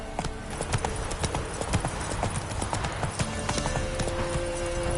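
A horse's hooves clip-clop steadily at a brisk pace in the video game Witcher 3, close and continuous over a background wash of ambient noise.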